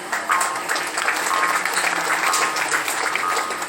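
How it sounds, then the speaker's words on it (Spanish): An audience at an anniversary celebration gives strong applause to Buglé community representatives, dense steady clapping throughout. "para lo cual les pido un fuerte aplauso"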